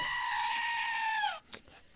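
A goat lets out one loud, sustained scream for over a second, close by, followed by a brief faint noise.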